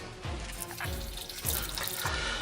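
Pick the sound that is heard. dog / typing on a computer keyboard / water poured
water poured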